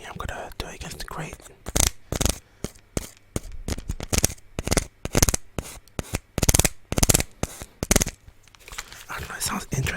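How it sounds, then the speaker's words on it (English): A pen scraping and tapping against the grate of a game controller, close and intimate, in a quick series of sharp scratchy strokes separated by brief pauses, with soft whispering at the start and end. "I have a pen here, I'm gonna do it against the grate"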